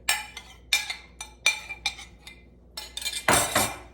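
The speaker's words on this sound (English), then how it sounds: "I'm just going to gently stir those into there so they all get coated" Spoon clinking against a bowl while fresh sliced peaches are gently stirred with Splenda, giving several separate close clinks and scrapes in an irregular rhythm, ending in a louder, longer rattling stir.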